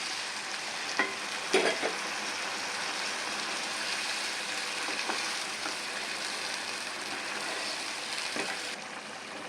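A little water added to spiced fried figs in a pan, giving a continuous loud hiss and sizzle with a few stirring scrapes near the start, no talking.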